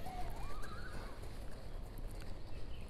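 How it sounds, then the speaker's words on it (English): Horses drawing carriages into a courtyard at the Musée Rodin in Paris, hooves clip-clopping amid a whinny, moderately distant under general outdoor ambience. "You can just see the horses coming in, can't you? And carriages."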